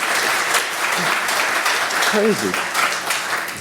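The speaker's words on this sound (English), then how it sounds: "I think we all need a round of applause." A conference audience applauds in a steady broadband wash of clapping, with a voice talking over it partway through.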